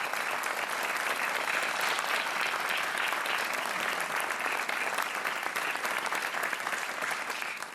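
A TV quiz show's studio audience applauds a contestant: loud, dense, unbroken clapping that holds steady throughout and tails off slightly at the very end.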